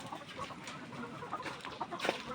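Hens on a layer poultry farm cluck faintly in soft, scattered calls, with one slightly sharper cluck near the end, alone with no talk.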